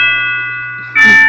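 A bell rings in a classroom with a long, steady, ringing tone that slowly fades, and then a short burst of noise comes in near the end.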